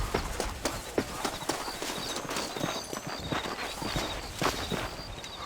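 Steady clip-clop of horse hooves at a walking-to-trotting pace while riding in the Western video game Red Dead Redemption, regular and close with faint ambient background.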